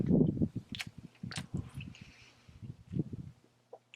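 Bites and chewing of a McDonald's Crunchy Double burger, close and crisp, with a few crunchy bites and wet chewing in uneven bursts, no talking.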